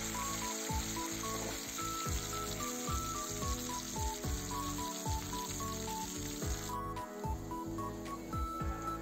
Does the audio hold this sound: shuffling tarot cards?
no